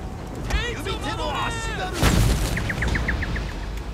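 Musket and artillery fire booms across a Total War: Shogun 2 battlefield, a heavy blast at mid-clip standing out among scattered reports, with chattering voices and rhythmic game sound effects layered over the din.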